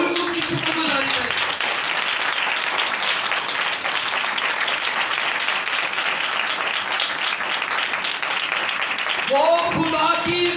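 Church congregation applauding during an evangelist's sermon: dense, sustained clapping fills the whole stretch at steady loudness, with a preacher's voice heard briefly at the start and again near the end.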